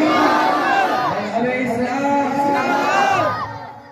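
At a religious gathering at a madrasa's annual jalsa, a large crowd chants a slogan in unison in response to a call of Nara-e-Takbir, loud, sustained voices rising together, then fading.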